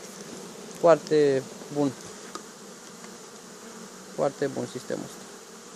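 Honeybees at a hive being fed syrup through a rear feeder, a faint steady hum under two short bursts of nearby talk.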